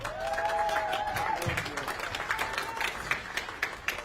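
Audience applause at an airport ribbon-cutting ceremony at BNA, moderate clapping that thins out into scattered individual claps near the end, heard at a distance.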